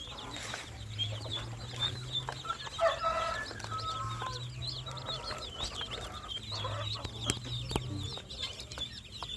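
Many two-day-old ducklings peep busily in a rapid, overlapping chorus, with a low hum running beneath in stretches.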